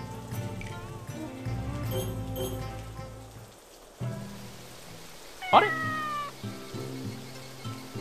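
A cat gives one clear, rising meow in the Sakuna: Of Rice and Ruin video game, heard over soft game music and a rain-like ambience.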